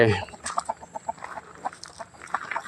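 A chicken clucks in a quick, uneven series of short calls, fairly close and clear, after a brief sound at the very start.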